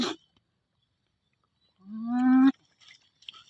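A big frog lets out one long, low, droning croak close by in an otherwise quiet spot, followed by faint rustling.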